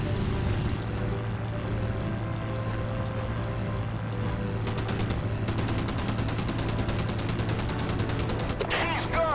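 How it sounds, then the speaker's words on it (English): Rapid machine gun fire in Battlestations Pacific pours into a sinking ship, with steady engine and water rumble underneath and a long burst of fast rhythmic shots in the second half, no speech. "I just sank that with my machine guns"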